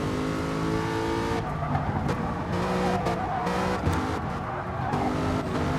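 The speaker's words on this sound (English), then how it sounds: "Geez, hear those tyres. They are absolutely hating life at the moment." Race car tyres squealing at Brands Hatch, a steady high-pitched screech layered over a loud engine note, sustained as the car corners and accelerates, with no talk over it.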